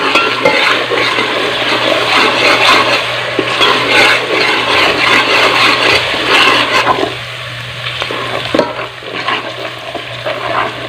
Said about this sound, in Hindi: इसको अच्छी तरह फ्राई कर लेंगे।